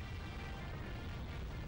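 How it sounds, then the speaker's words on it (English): Big explosions from the Dreamcast game Dolphin Blue fill the moment with a dense, steady roaring rumble that stays loud and constant throughout, with no separate bursts standing out. "that's some big explosions"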